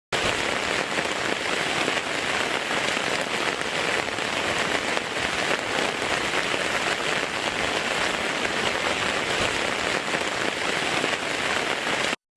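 Steady, heavy rain falls on harvested paddy fields, a dense, even hiss of drops throughout, with no voices.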